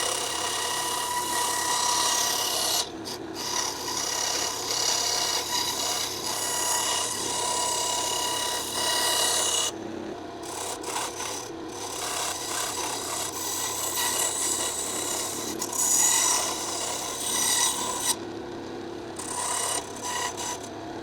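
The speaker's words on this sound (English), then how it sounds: "I'm going to cut this out with the bandsaw." A bandsaw cuts a small wooden tooth fairy box, giving a continuous loud rasping whine for about twenty seconds with a few brief pauses where the blade eases off, close up and with no talking.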